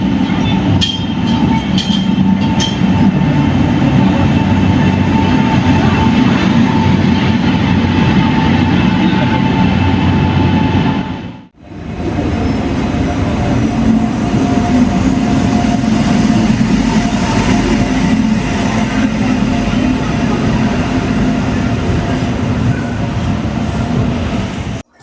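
Onboard the Tambaram to Mangaluru Express, a loud steady roar of running wheels and carriage rumble fills the whole span, briefly dropping away for a moment midway before resuming just as strongly.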